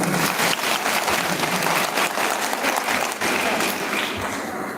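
Loud, sustained applause from a crowd at a political rally during a Vijaya gathering, a dense continuous patter of clapping close by that runs throughout without a break.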